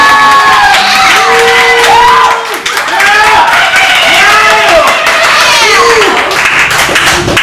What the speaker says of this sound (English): if you think the girls should win tonight, clap your hands